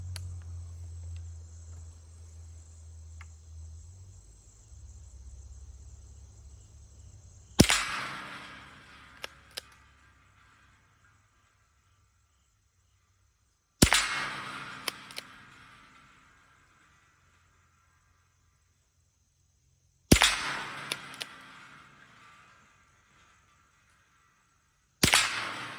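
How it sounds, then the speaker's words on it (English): Four sharp shots from a Winchester Model 61 hammerless .22 rifle firing Super X round nose high-velocity ammunition, evenly spaced several seconds apart, each a loud crack with a brief ringing tail, outdoors with faint background hum. "those are Super X round nose, high velocity. So that's what I'm shooting."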